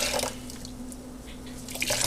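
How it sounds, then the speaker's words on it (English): Freshly rinsed rainbow yarn is squeezed by hand over a bowl, and water drips and splashes back into the bowl in a few short bursts, near and fairly quiet, with no talking. "I'm going to pick this up and squeeze it out."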